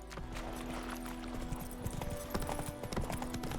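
Horse hooves clip-clopping in The Witcher 3, a steady rhythmic trot of hoofbeats over a low ambient game soundscape, with a faint tonal hum and no clear talk.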